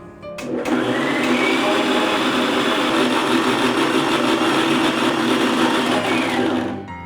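A kitchen blender grinds poha idli batter in one continuous, loud, high-pitched whir that starts abruptly, holds steady for several seconds and winds down at the end.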